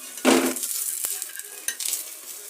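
Pancake frying in a small amount of oil in a pan, a soft steady sizzle with a louder burst near the start and a few light utensil clicks.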